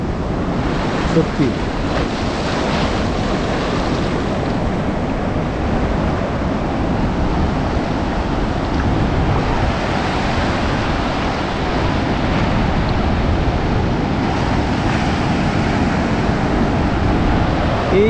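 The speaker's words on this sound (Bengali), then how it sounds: "ওয়াও, কত বিশাল বড় বড় ঢেউ" Large ocean waves crash continuously on the beach at Cox's Bazar, a loud, close, unbroken surf roar with wind buffeting, and a brief voice speaks once.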